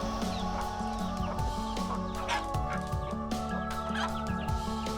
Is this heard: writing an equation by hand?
no